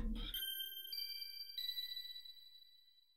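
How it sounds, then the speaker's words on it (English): A synthesized "splendid bell" patch in a remix of SQ4 music for vinyl strikes bright, ringing tones with long shimmering decays, three struck notes layered over each other after a brief low opening, fading slowly. "So, what does a splendid bell sound like?"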